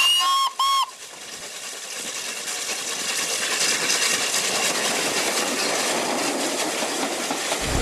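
Steam locomotive 60163 Tornado sounds a loud, close whistle in two short harmonic blasts at the start, followed by a swelling roar of steam and rolling train noise that builds and holds steady.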